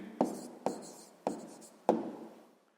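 A pen writes an answer on paper for a sixth-grade maths exercise, making four short, distinct scratching strokes spaced about half a second apart, close and quiet, with no talk.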